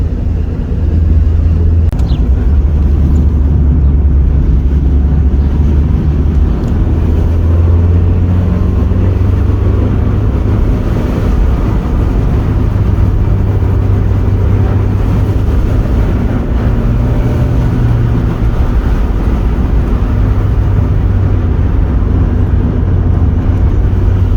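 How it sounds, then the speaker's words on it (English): A Mazda MX-5 engine drones steadily and loudly throughout on a road run on the Isle of Wight, low and continuous, with slight rises in pitch as the revs climb; no talking. "This one climbs the revs a lot quicker."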